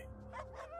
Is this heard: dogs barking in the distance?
yes